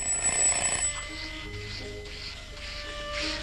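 A telephone rings with a repeated electronic trill, a steady pattern of bursts at moderate volume in an indoor scene from a 1986 Albanian comedy film.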